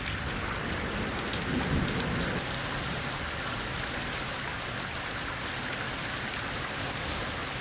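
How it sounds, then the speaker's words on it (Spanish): Steady, loud rain pours without pause at a work camp, a dense even hiss with light drumming on surfaces and no voices. "Y la lluvia no es obstáculo para trabajar"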